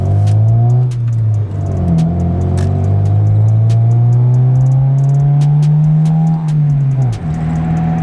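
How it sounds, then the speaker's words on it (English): A Honda Civic with a loud aftermarket exhaust revs in neutral inside a tunnel, its booming drone rising and falling through several sustained revs that echo loudly throughout. "I'm gonna put it in neutral, and I'm gonna rev it when we're in the tunnel"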